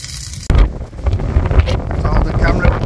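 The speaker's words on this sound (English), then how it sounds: "it's blowing an absolute gale outside" A strong gale blows outside a mountain bothy in the Lake District, loud gusting wind buffeting the microphone after a brief quieter start, a constant rushing roar with surges.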